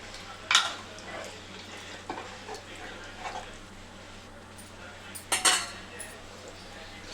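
A spoon scrapes and clinks against a pot as country chicken curry, Telangana village style, is stirred, with a few louder knocks at the start and again near the end, over a low background hum.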